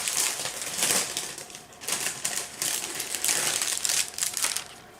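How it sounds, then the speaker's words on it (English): Plastic packaging from a quilt box crinkles and rustles up close in irregular bursts of crisp crackling, with brief pauses between handlings. "Again, more crinkling, one moment."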